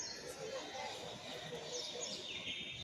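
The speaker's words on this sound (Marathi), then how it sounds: "पक्ष्यांची किलबिलाट आहे सर्व चालू" Faint birds chirping and twittering by a lake through a broad outdoor hiss, distant and continuous, with a few brief sweeping calls.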